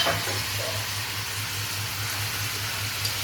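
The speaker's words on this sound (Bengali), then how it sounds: "পাশে আমার পেঁয়াজটা বেশি ভাজা হয়ে যাচ্ছে" Onions sizzle steadily in a hot pan, a continuous hissing crackle with a low hum underneath.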